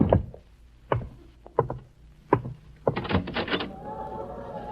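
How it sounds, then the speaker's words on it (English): A radio drama door is handled in a series of sharp wooden knocks and thuds, followed by a rattling slide and a creaking swing as it opens, all close and clear with no voices. "Don't open that door!"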